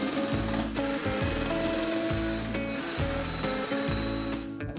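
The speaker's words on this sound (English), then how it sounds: "We're gonna cut these out with the jigsaw." A jigsaw cuts through wood for a simple paddle rack, a loud, close buzzing rasp with rhythmic strokes that pulse roughly twice a second throughout.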